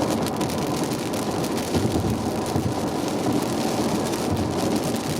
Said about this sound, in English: because the rain's picked up a little bit again.